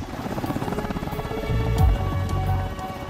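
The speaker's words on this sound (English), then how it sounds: "So this is a helicopter landing." A loud, steady helicopter engine and rotor drone, swelling in the second half as the aircraft lands close by.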